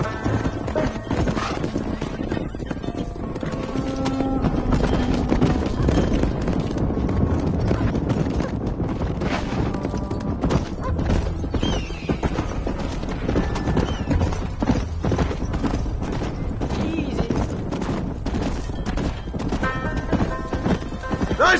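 Horse hooves clip-clop steadily through a Red Dead Redemption game scene, a continuous rhythmic clatter with occasional whinnies over a busy background of ambient game noise.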